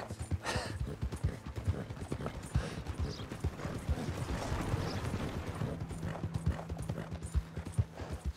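Steady rapid clip-clop of horse hooves trotting on hard ground in the video game Red Dead Redemption 2, close and continuous, with faint mechanical creaking in the background.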